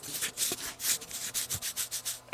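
Stiff focus ring on a dropped, damaged Sony MiniDV camcorder being turned by hand, giving a close, rhythmic series of dry rubbing scrapes, roughly a dozen strokes in a row with no talk.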